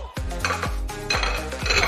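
Biscuits dropped into a glass mixer jar for a mixed juice shake, giving a few quick clinks and knocks against the jar, close and fairly distinct, with no talking.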